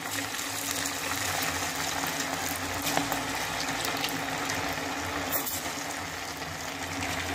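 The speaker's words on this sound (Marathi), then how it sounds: "तेल घालून आपण आता हे आपले मेदू वडे तळून घेणार आहोत." Medu vada frying in hot oil, a steady, dense crackle and sizzle that holds evenly throughout at moderate loudness, with no talking.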